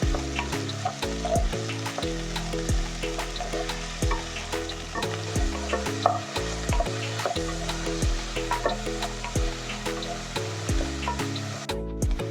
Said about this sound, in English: And now I'm adding 1 medium-sized onion. Saute it until it becomes transparent.